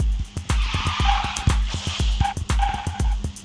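A car slides and drifts around a space station track in Garena Speed Drift, tires skidding and squealing in a fast, repeated pulsing pattern over a steady engine drone, loud and close.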